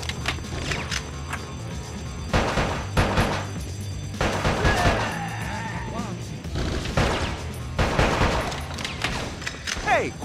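Gunfire in the video game Bad Boys Miami Takedown, with rapid bursts of shots and booming impacts in short volleys over game music, while voices talk between and under the shooting.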